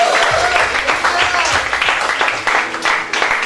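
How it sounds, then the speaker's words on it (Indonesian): Congregation clapping and cheering together during a church worship service, a dense continuous wash of hands mixed with voices, loud and close throughout. "Tepuk tangannya ragu-ragu ya"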